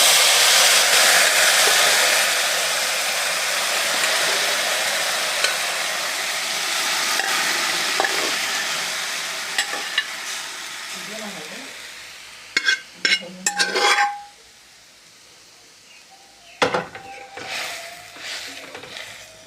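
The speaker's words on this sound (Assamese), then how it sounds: "এতিয়া মই এই জাতিলাওখিনি ইয়াত দি দিম।" Bottle gourd frying in a hot pan, a loud steady sizzle that fades over several seconds, followed by scraping, stirring clatter of utensil against the pan in short bursts.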